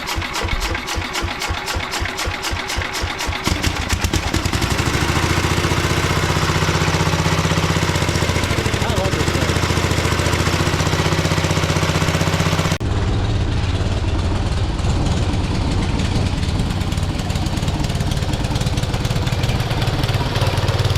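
A Pennsylvania Meteor 1012 engine is started with the choke on: a few rapid pulls and sputters, then it catches and runs loud and steady, with a shift in tone partway through.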